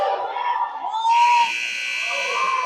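A long electronic buzzer sounds at an ice hockey game between youth 12U teams, a steady tone over rink noise and crowd shouting, ending the period.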